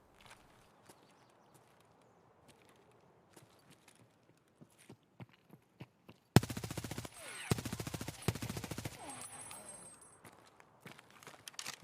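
Video game gunfire: sparse single shots and footsteps at first, then loud rapid bursts of automatic fire crowding the second half, sharp and close.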